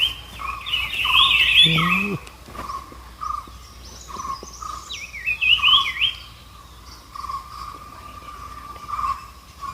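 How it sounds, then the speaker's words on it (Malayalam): An orange-headed thrush sings a few clear, whistled phrases with pauses between them, in forest at Periyar Tiger Reserve, Thekkady, over a faint steady hum in the background. "ഓറഞ്ച് ബ്രൗൺ ത്രഷ് എന്ന് പറയുന്ന കിളിയാണ്."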